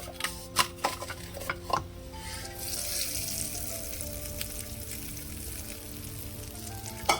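Spices tempering in hot oil for a peanut and tomato chutney give a steady, close sizzle and crackle, with a few sharp pops and utensil taps near the start and no talking.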